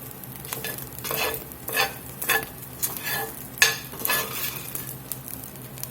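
Ground beef sizzling in a pot for blackened hamburger soup, with repeated scraping stir strokes every half second or so over a steady frying hiss, close and moderately loud, no talking.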